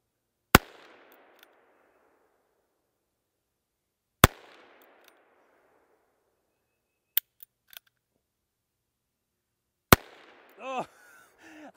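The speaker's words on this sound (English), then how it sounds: "couldn't hit the 100 yard target today, but had fun shooting at it" Ruger Super Wrangler revolver fired at a 100-yard target outdoors, three sharp, loud cracks spaced several seconds apart, each with a short decaying tail, plus a few faint clicks between shots and brief voice sounds at the end.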